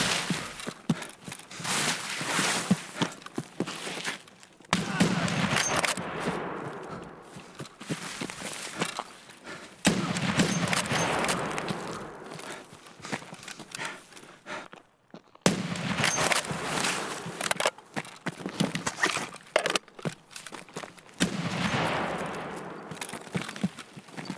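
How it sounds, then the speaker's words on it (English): Gunfire from people shooting in a video game, with repeated bursts of sharp cracks and rattling volleys coming in several waves, mixed with footsteps and movement noise across a long stretch. "listen out for people shooting at the roads"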